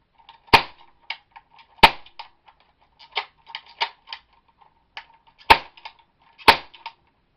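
A Gobots Arco Rifle Bot toy cap gun fires paper caps, four sharp loud cracks spaced irregularly, with clicking and rattling handling noises from the mechanism between shots.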